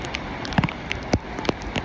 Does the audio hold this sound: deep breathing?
no